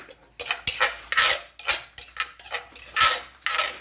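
A spoon clinks and scrapes against a dish in repeated short bursts, close and fairly quiet, with no talking.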